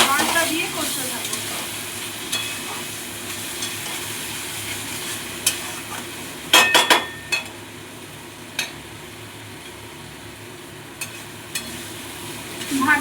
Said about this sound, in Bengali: ডালটা দিয়ে কষতে থাকবো।